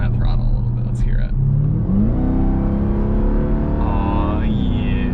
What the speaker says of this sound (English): Breathe on that throttle a little bit.